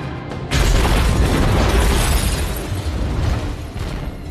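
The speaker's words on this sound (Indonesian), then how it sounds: "tiba-tiba terjadilah ledakan" A film explosion erupts with a sudden loud boom, then a sustained roaring blast and rumbling debris that fills the scene and slowly tapers off, with no speech.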